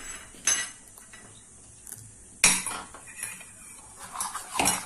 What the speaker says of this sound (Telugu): దోశ పిండి బాగా ఎలా వస్తుందో అలా బాగా కలుపుకోవాలి దీన్ని